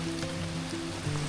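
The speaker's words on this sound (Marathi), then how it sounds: "पायवाटीवरून सुद्धा पाणी वाहत आहे." Rainwater streams down a forest footpath on a trek, a dense, steady wash of running water with no voices.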